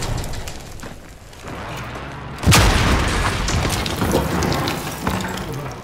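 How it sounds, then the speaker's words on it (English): An explosion in the video game Call of Duty: Modern Warfare lands as a single loud, sharp boom midway, then a rumbling, crackling decay of debris and gunfire-like noise continues to the end. "explosion."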